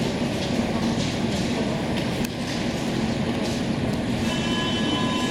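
A suburban train pulls out of Gare du Nord in Paris bound for Boissy-Saint-Léger, a steady loud rumble with wheel and rail noise and faint squeals inside the station, no talking.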